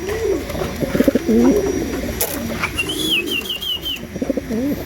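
Racing pigeons coo close by in repeated throaty, rolling bursts, with a higher thin chirp or whistle trailing briefly in the middle.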